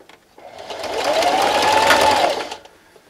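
A sewing machine stitches a fabric Halloween treat bag in one steady, close whirring run of about two seconds that starts and stops cleanly.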